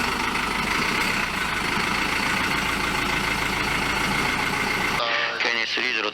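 The number 3 engine of a Japan Air Self-Defense Force C-130H transport aircraft runs up at start, a loud, dense, steady roar that ends abruptly into quieter radio-like voices.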